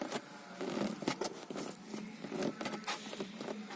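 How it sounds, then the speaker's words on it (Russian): Dense crackling and creaking from the interior headliner of an Audi as it is pressed by hand, a run of close, fast irregular ticks and rubbing squeaks with no voice. "Даже потолок скрипит."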